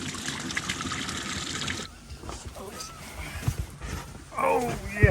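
Lake water splashes and trickles as blood is rinsed off a freshly caught catfish, in bursts of sloshing near the start and end with a voice speaking between them.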